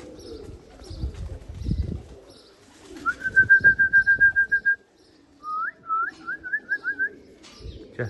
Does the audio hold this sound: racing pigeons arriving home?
yes